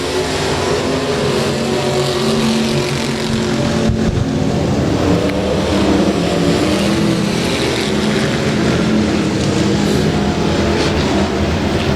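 Race cars circling Rose Bowl Speedway under green flag, a dense, steady roar of engines droning continuously at high volume without pause.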